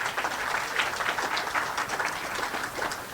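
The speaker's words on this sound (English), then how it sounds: "Please, can we get a round of applause for her?" An audience at a New Year's community gathering with members of parliament gives steady applause, a continuous patter of many hands at moderate volume.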